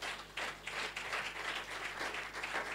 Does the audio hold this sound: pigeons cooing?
no